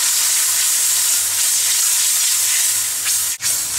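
Thai green curry with coconut cream sizzles steadily in a pan as it is stirred, giving a loud, even frying hiss with a faint rhythmic low scraping and no talk.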